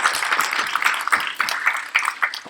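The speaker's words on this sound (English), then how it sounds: "give a big hand of applause to the whole ICAR team" An audience at a conference closing session in Bangladesh claps, a brisk, fairly even patter of many hands at moderate loudness with no voices over it.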